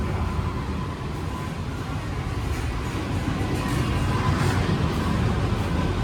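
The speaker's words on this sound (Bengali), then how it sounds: "2 মিনিট লেট করে ট্রেন ছাড়লো আজকে" The Sealdah–Barasat AC local train pulls away on its first run, a steady low rumble and broadband rolling noise heard from inside the carriage without pause.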